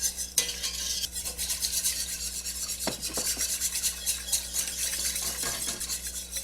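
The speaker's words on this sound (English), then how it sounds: "We're going to slowly stir in a little bit at a time" Cashew milk stirred into a flour roux, a rhythmic rasping whisk scraping the pan bottom over a low sizzle, with a few sharp utensil clicks, close-up and steady with no speech.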